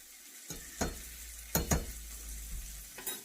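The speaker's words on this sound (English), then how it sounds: "I'm going to add a tablespoon of minced garlic here" A tablespoon of minced garlic hits a hot pan and sizzles softly, with a few sharp utensil scrapes and clinks against the pan breaking in at intervals, near and fairly quiet.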